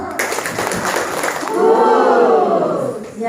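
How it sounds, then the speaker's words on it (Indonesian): An audience at an Indonesian civil-service session bursts into applause. Broad, loud clapping fills the opening second and a half, then gives way to a swell of crowd voices. "Ulang ya, kita kasih aplaus."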